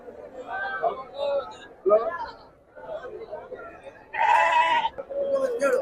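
Goats and sheep bleat loudly nearby at a busy livestock market in Hiriyur, one long wavering cry standing out, while people chatter in the background of the crowd.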